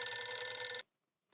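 A telephone bell rings with a continuous metallic trill for under a second, then cuts off abruptly into silence, heard clearly at close range with no talk.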